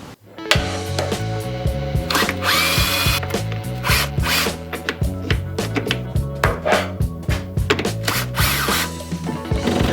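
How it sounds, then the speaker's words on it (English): A power tool machines a metal flange for a pool heater build, cutting in repeated loud chattering bursts with short pauses between passes. "I guess now I need to machine the flange."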